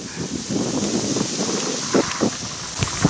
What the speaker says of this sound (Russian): ветер в основном вверху